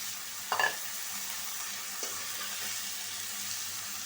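Chopped potatoes and beans are tipped into a pan of frying spice paste, giving a short clatter and a burst of hiss, then a steady, even sizzle close by with a faint knock of stirring.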